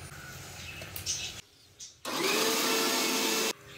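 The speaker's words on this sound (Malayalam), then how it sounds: "അപ്പൊ ചക്ക അരച്ചെടുത്തിട്ടുണ്ട്" A kitchen mixer grinder purees ripe jackfruit in loud, steady whirring bursts: a short run, a pause with faint motor noise, then a longer sustained grind.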